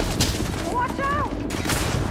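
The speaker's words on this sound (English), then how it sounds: "All I see is bullets come at us" Gunfire pours toward the player in the game Starfield, a dense continuous rattle of shots under a voice and brief sci-fi tones.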